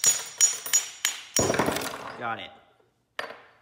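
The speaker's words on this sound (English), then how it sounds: "Just give it some light taps of the hammer." Light hammer taps on metal parts of a Fellowes paper shredder being taken apart: four or five sharp, close clinks in an uneven rhythm, then a rattle, a short spoken remark, a pause and one final tap.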